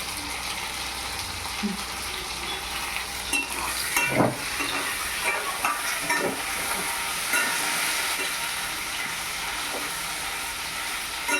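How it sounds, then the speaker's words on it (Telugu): Boiled mutton frying in a pan, a steady loud sizzle running throughout with scattered scraping stirs and occasional pops, close up. "ఉడికిన మటన్ని వేయించుకుంటున్నాం అన్నమాట ఇందులోకి"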